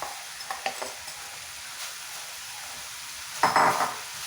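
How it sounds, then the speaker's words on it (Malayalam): Soft sizzling of grated coconut and jaggery frying in a pan with scattered scraping stirs, a louder burst of stirring near the end; no talking. "തേങ്ങയും ശർക്കരയും നന്നായിട്ട് ഫ്രൈ ആയി വന്നിട്ടുണ്ട്"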